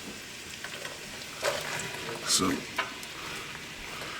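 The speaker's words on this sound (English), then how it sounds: "You're going to hear a nice sizzle." A soft, continuous sizzle of oil in a pan, with a few louder crackles and clinks and a brief voice.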